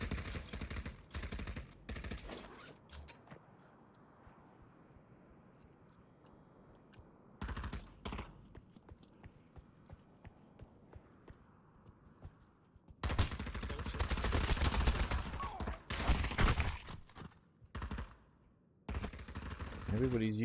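AK rifle fire in the Pavlov VR shooter, loud bursts of automatic gunfire heard close up, with quieter single shots and pauses between the volleys.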